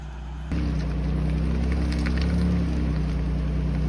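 A Ford Raptor's engine picks up off road in the Black Hills of South Dakota, a deep steady drone that starts suddenly and holds, loud and close.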